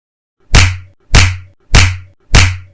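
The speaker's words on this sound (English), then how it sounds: "The sound of the slaps almost formed a symphony." Four hard slaps land on a face as a sound effect, each a loud, sharp crack with a short ringing tail, spaced evenly about every half second with silence between them.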